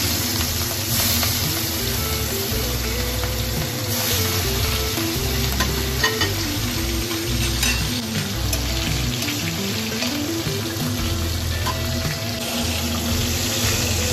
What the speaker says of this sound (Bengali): বাকি মাছগুলো এবারে সব একই রকম করে ভেজে নেব।